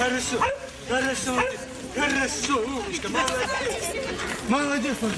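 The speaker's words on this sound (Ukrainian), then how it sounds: "спочатку їм показують, як працюють прикордонні собаки" Border guard dogs barking and yipping during a demonstration for schoolchildren, repeated barks close by over crowd chatter and voices.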